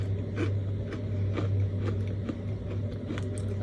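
Someone chewing a crunchy sweet snack near the mic, with repeated bites and crunches in a steady rhythm over a constant low hum.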